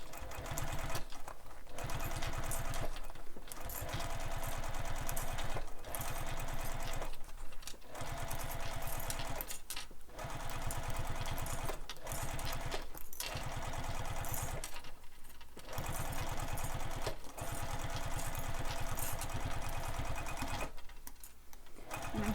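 A sewing machine stitches around a handbag in steady bursts of rapid, even chatter, each run stopping briefly for short pauses before starting again, close and moderately quiet, with no talk.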